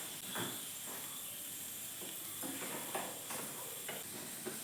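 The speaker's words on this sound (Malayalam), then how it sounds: "ചട്ടി ചൂടായിട്ടുണ്ട്. നമുക്ക് വെളിച്ചെണ്ണ ഇട്ട് കൊടുക്കാം" Coconut oil hisses steadily in a hot pan, a constant soft sizzle with a few faint clinks and stirring scrapes, no talk.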